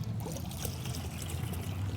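Water sloshes and trickles as a cleaning tool for removing bugs and road grime is dunked and worked in a small bucket, close and continuous gurgling and splashing with no voices.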